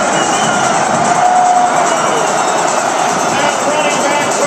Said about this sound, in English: And he got a big crowd reaction.